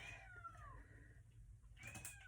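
Cat stuck in a closet giving a few drawn-out meows, faint, with a pause between the calls.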